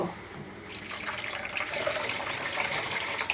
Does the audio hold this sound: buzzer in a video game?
no